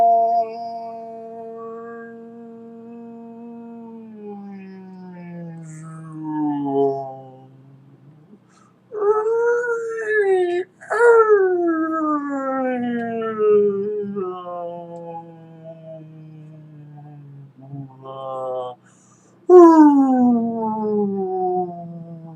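A voice imitates a whale call with long, wavering, moaning howls that rise and fall in pitch, delivered in several separate bursts with short pauses between them, loud and close.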